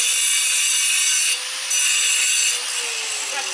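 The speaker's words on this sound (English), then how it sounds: "So I used my grinder. Just take the grinder and cut slots." An angle grinder cuts slots and grooves into a metal nose piece, giving a loud, steady, high whine that dips briefly and then resumes at full strength.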